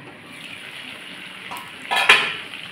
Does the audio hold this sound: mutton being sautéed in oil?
yes